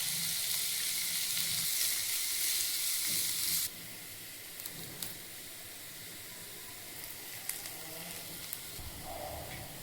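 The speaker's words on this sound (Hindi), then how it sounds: "हम इसी तेल में मिर्ची डाल देंगे, प्याज डाल देंगे। इसको हम हल्का रोस्ट कर लेते हैं।" Green chillies and onion roasting in hot oil in a pan, a faint steady sizzle that drops quieter partway through, with occasional small clinks.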